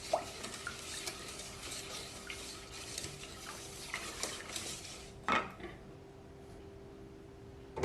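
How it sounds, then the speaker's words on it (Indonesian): A spoon stirs coloured pudding mixture for Indonesian es podeng in a metal pot, scraping and clinking steadily against the sides and bottom, close up, with one sharper knock near the end and no talking. "Masak puding sambil diaduk-aduk sampai meletup-letup."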